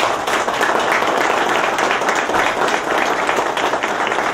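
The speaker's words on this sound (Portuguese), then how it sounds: "Uma salva de palmas ao Dr. Geraldo." Audience applause at a public ceremony in Ouro Fino honoring a doctor, a broad dense wash of many clapping hands sustained evenly for several seconds with no voices standing out.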